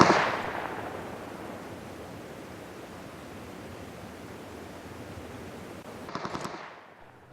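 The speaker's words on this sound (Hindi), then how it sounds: "फिर स्कोप से फायरिंग करता हूँ" Scoped weapon fire in PUBG, a dense sustained burst of gunfire at steady loudness, ending with a brief cluster of sharper shots before dropping off.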